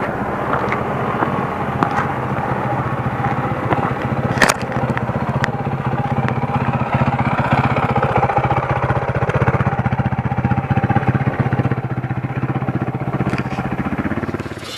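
A motorcycle passing on an off-road trail, its engine drone rising and holding steady for several seconds as it rides by close, with occasional gravel crunches.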